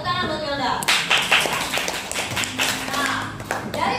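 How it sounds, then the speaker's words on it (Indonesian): Classroom clapping for a student named Wilda: after a short spoken lead-in, a group of children claps in quick, uneven bursts, close and fairly loud, with the sharp claps slightly irregular in rhythm. "Wilda, tepuk tangan buat Wilda."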